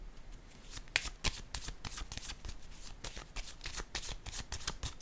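Tarot cards shuffled by hand, a quick run of crisp, close riffling flicks and slaps repeating throughout, with no voice over them.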